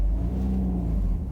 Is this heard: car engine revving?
yes